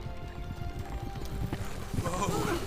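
Horses clip-clop along with a dense patter of hoofbeats and a brief whinny, heard under a spoken fairy-tale dramatization with voices talking.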